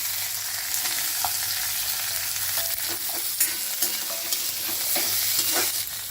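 Broad beans sautéing in hot oil, a dense continuous sizzle with intermittent scraping stirs and light pan knocks, close and steady with no speech.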